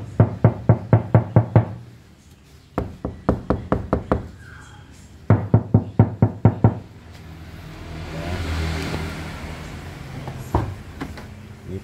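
Knuckles rap on the undamped door panel of a Honda Brio in quick bursts of about six hollow, resonant knocks, the sets repeated several times at close range, with a brief passing rumble and a few single taps.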